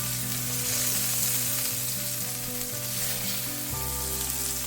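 Korean galbi short ribs sizzle and crackle in a hot pan, a dense continuous frying hiss up close with steady tonal hum beneath and no talking.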